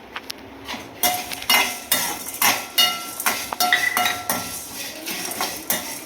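Curry leaves and coconut roast in a kadai for a mushroom gravy while a utensil scrapes and knocks against the pan in about a dozen sharp, rhythmic strokes, close by and with no speech.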